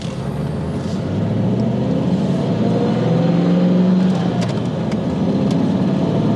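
A 1996 Pontiac Formula Firebird with a manual transmission pulls away from a stop, its engine droning steadily and rising slightly in pitch as the clutch engages, loud and close with a faint whistle and no talk.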